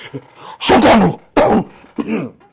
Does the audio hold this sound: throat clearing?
yes